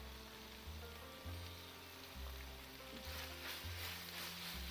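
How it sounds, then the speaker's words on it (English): Garam masala frying in a pan for chicken mince cutlets, a faint steady sizzle over a low hum, with quiet stirring noises and no talking. "the garam masala has been frying for a couple of minutes"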